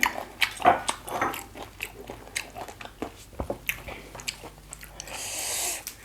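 Close, crisp crunches and wet chewing as someone bites into crunchy green papaya salad (som tam), with several sharp bites in an uneven rhythm and no talking.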